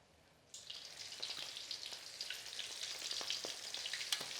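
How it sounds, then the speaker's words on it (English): Hot oil bursts into a steady, crackling sizzle as a panko-breaded prawn is lowered in, the bubbling staying loud and busy throughout. "you can slowly lower it into your hot oil"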